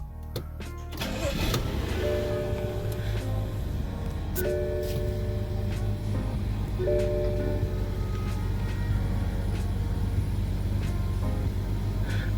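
A 2015 BMW 535i fires up and settles into a slightly rough, steady idle, with a low engine hum under a few soft electronic chimes from the cabin.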